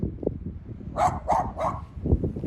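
Dogs bark in three quick, evenly spaced bursts at a moderate distance, set against steady outdoor rustle and wind, while someone explores a neglected old site from the communist era.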